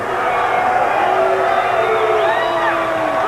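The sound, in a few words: wrestling crowd reacting displeased to Ric Flair's win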